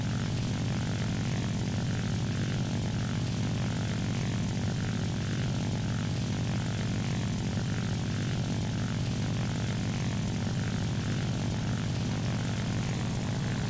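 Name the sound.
propeller plane engine in video game War Thunder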